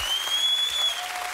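Studio audience applause on a German late-night talk show, a steady wash of clapping hands filling the whole brief moment with no voices over it.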